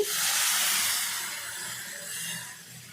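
Hot water poured onto a fried spice paste in a pan hits with a sudden loud hiss of steam and sizzling, then slowly tapers over a few seconds, close by and with no voices.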